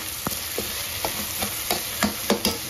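Tawa keema sizzles on a hot griddle with butter added, a steady hiss broken by several sharp scraping taps from a utensil in quick succession, close and fairly loud.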